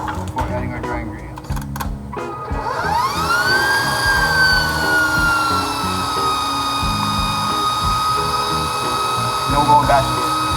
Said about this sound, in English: go ahead and run our mixer one more time before adding our dry ingredients